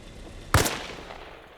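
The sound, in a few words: armor piercing gunshots hitting a vehicle, from video game Arma Reforger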